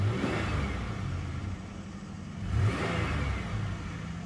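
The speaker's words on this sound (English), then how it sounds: "Let's give this a little rev." A 2005 Grand Prix GT's engine revs up twice, rising in steady surges with a brief dip between them, close and fairly loud with no voices.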